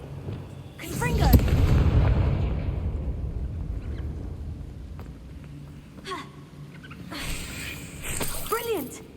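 A Confringo fire-blast spell explosion in the Hogwarts Legacy video game: a deep rumbling boom swells and rolls on for several seconds, followed by a couple of sharper magical bursts, with voices talking over the blasts.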